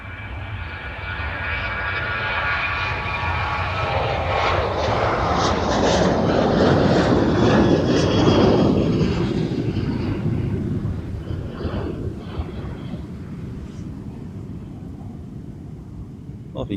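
An airliner taking off at Amsterdam Schiphol Airport, its engine roar swelling to a broad peak as it accelerates down the runway and then slowly fading into the distance, with light wind noise on the microphone.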